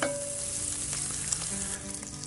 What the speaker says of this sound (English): Let's go ahead and brown this bacon off a little bit and get that rendering.